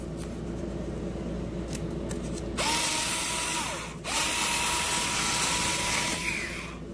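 A Warrior cordless power cutter slices through cardboard with a steady high mechanical whine, starting abruptly, briefly dipping and restarting, after faint clicks and handling noise; close and loud, no talking.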